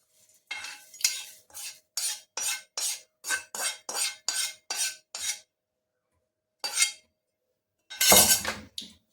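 Roasted adhatoda (Malabar nut) leaves tipped into a mixer grinder jar give a run of about a dozen quick, evenly spaced clinks, then a single clink and a final louder clatter, with no talk.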